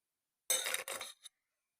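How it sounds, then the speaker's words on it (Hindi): Garlic cloves tipped into a jug, giving a short clattering rattle of two quick bursts, near and clear, then silence. "पेस्ट बनाने के लिए हम लहसुन को डालेंगे जग में।"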